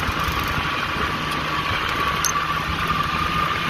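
An old tractor engine runs steadily at partial throttle, a continuous loud rumble with rough vibration throughout and no pauses.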